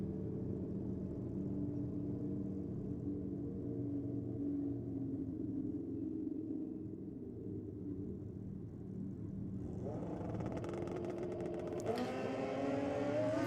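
A drag racing motorcycle at a bike night event launches hard, a steady loud engine roar that rises sharply into a high revving scream near the end.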